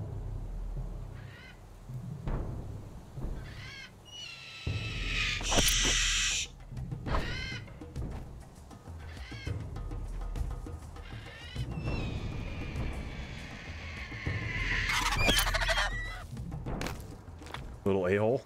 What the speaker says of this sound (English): Freaking mama bird.